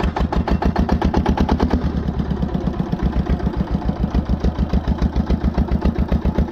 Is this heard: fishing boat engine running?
yes